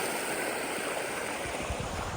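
Creek water flowing past a clogged culvert choked with debris and massive fallen trees, a steady broadband rush that holds constant throughout, with low gurgling near the bank.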